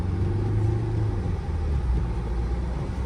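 Mercedes car sliding sideways on snow, its engine a steady droning rumble with slight rises in revs, close and continuous, no talk.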